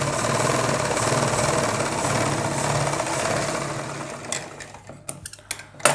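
Sewing machine stitching over a crotch seam on men's underwear fabric, a continuous humming, pulsing whir for about four seconds that then stops, followed by a few soft handling clicks and rustles, close and without talk.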